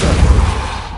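A Repulsor spell blast in Hogwarts Legacy, heard as a loud, dense whooshing thump that rumbles low and fades over about a second, standing alone without speech.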